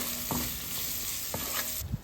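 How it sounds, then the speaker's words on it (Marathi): Cauliflower being stirred and sautéed with salt in a hot kadhai: a steady close sizzle broken by a few brief scraping strokes of the spoon against the pan, with no voices. "मीठ टाकून एकदा परतून घ्यायचं."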